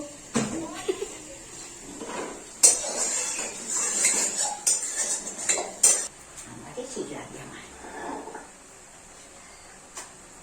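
Pots, pans and cutlery clatter during home cooking of dal and mixed-vegetable chorchori, with sharp metallic clanks and scrapes scattered through the clip amid faint background voices.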